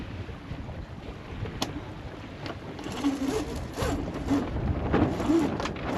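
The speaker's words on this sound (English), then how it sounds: "We're about to tack." Hallberg Rassy 44 sailboat tacking upwind along Italy's Emerald Coast, with steady wind noise and water rushing against the hull, growing louder midway as sails and rigging shift, with occasional short clanks.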